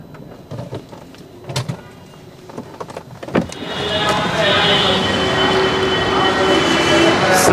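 The electric sunroof of a 2016 Hyundai Tucson runs with a steady motor whir inside the car, starting after a few soft clicks and handling sounds and continuing evenly to the end.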